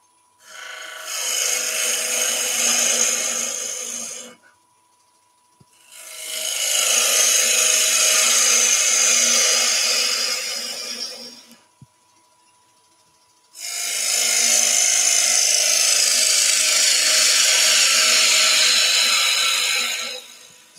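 A gouge cuts green oak spinning on a wood lathe: three long, loud bursts of harsh, hissing scraping, each several seconds long, separated by short pauses, with no talking.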